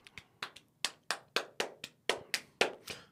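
Hand clapping in a steady rhythm, about a dozen crisp claps spaced fairly evenly over a few seconds, fairly close and alone without talk.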